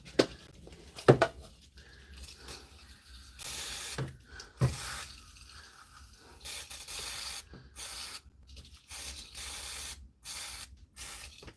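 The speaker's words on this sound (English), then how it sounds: "I'll put the contact cleaner on around the motor" Contact cleaner sprayed around the motor of a silent air compressor, a Parkside Lidl model, in repeated short hissing bursts of aerosol, close and loud, with brief pauses and small clicks between sprays.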